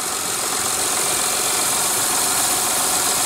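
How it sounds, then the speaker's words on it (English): A 2006 Honda Accord's 3.0-litre V6 runs at a steady idle, a loud, constant engine drone with no speech over it. "Under the hood is a 3-liter V6."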